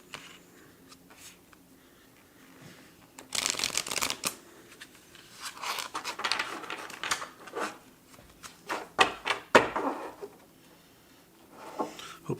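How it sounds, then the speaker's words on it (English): Oracle cards are shuffled on a table in several bursts of close, crisp riffling and flicking, with quieter handling between them. "Again, I shuffled these, but we'll do it again."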